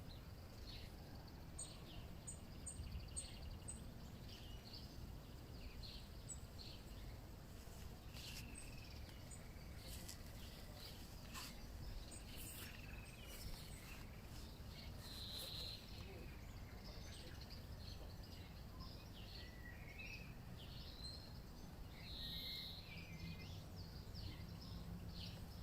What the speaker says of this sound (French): beaucoup de merles chantent aujourd'hui au jardin